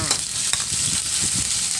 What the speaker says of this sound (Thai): น้ำมันร้อนเราก็นำพริกกระเทียมลงไปผัดให้หอมจ้า